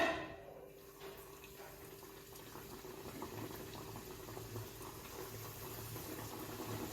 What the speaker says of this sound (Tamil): எண்ணெய் காஞ்சிடுச்சு போட்டுடலாம்